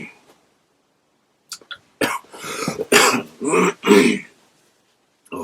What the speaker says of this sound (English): it was so painful to cough at the moment